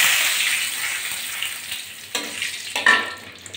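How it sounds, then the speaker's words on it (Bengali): Bay leaves sizzle in hot oil in a kadai before okra goes in, a steady close frying hiss that gradually eases, with a couple of soft clinks and stirring touches near the end. "এবার আমি ভেন্ডিগুলো ভাজবো, তার জন্য কড়াইতে তেজপাতা দিয়ে দিলাম।"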